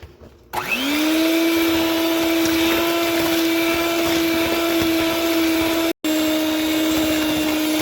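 An electric mixer creams eggs into cowboy cookie dough, spinning up to a loud, steady whirring hum that runs continuously at close range, broken by one brief cutout before resuming.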